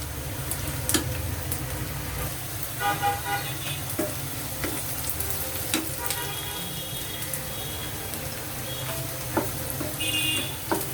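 Beresta, thinly sliced onions, frying in oil and stirred often, producing a continuous busy sizzle with occasional clinks, while a voice talks at times over the cooking.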